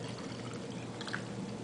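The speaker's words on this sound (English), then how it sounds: "I'll just actually pour this right into a glass mason jar." Coconut milk pours into a glass mason jar with a steady, faint liquid stream under low background hiss.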